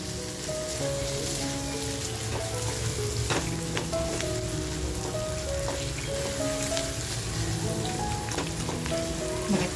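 Crab masala, made with cooked crab claws and legs in a Malvani-style curry, sizzles and fries steadily in a pan, with a dense, continuous crackle and occasional stirring clinks close up and no talking.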